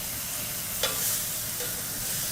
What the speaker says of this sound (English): Always use more butter. So it's sizzling.